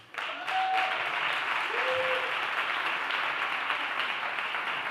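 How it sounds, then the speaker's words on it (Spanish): A live audience at a Spanish podcast recording breaks into sustained, dense clapping for a guest. The applause swells quickly and holds steady for several seconds, with a couple of brief whistles over it. "Y dadle un fuerte aplauso a Adri Alcaide, que está por ahí."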